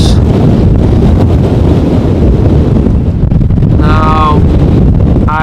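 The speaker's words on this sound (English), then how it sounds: "Just the wind throwing a curveball here today." Strong storm wind buffeting the microphone at Amsterdam Schiphol airport, a loud continuous roar with heavy low-end rumble, and a person speaking briefly over it near the end.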